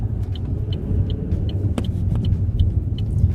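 A 2017 Chevrolet Sonic RS hatchback accelerating onto a highway, heard from inside the cabin as a loud, steady engine and road rumble with regular faint ticking and a brief sharp click midway.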